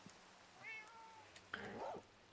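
Cat meowing in a Minecraft-style video game: two clear, drawn-out meows in quick succession, near and fairly loud over a quiet background.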